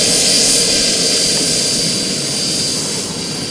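FMS Scorpion 90mm EDF model jet running at full power on an 8S setup, a loud continuous high-pitched ducted-fan whine and rush, close and steady throughout.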